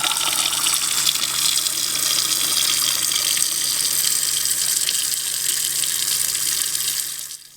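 Steady running water pours from a tap into an RV sink and drains down toward the gray tank of a Coachmen Beyond Class B RV, a constant loud rushing hiss that fades slightly at the end, with no talking.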